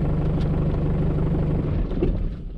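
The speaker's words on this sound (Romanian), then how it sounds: "Ia uitați cum se oprește motor." A 1979 Mercedes W123 240D diesel engine idles with a low steady rumble, then shuts off, the clatter thinning and fading out over the last half second.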